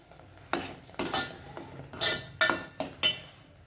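Metal plate set over a pan of cooking upma made with semolina, sounding as a series of about seven sharp, close clinks and clatters spaced irregularly, with quiet gaps between.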